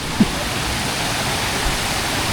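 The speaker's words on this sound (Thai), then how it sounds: "เป็นน้ำตกแบบ เป็นชั้นเล็กชั้นน้อยนะครับไต่ระดับขึ้นไปเรื่อยๆนะ" A constant broad rush of falling water from the tiered Tat Kuang Si waterfall near Luang Prabang, Laos, fills the scene, steady and fairly loud, with one brief soft bump near the start.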